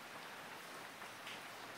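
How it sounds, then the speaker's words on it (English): Steady rain falling in a tropical climate, a continuous broadband hiss of drops on surfaces filling the whole stretch at moderate, even level with no voices. "it's actually raining right now, so I hope you can hear clearly"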